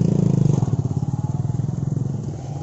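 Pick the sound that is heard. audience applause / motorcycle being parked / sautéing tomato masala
motorcycle being parked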